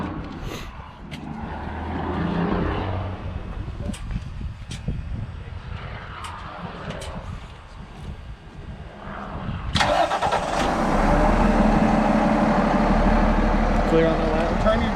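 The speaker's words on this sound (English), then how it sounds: "So again, truck will be started." A fire truck's diesel engine cranks and starts, rumbling under a man's instructions, then settles into a loud steady idle with mechanical whirring.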